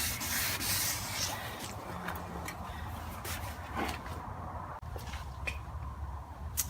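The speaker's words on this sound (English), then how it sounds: "Okay, so I sanded the whole thing from left to right" Wet sandpaper rubbing across an oxidized car headlight lens, a soft continuous scratchy swishing in repeated strokes, close and fairly quiet, with no voices.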